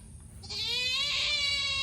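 A goat on a hillside farm lets out one long, loud, wavering bleat close to the microphone that carries through to the end.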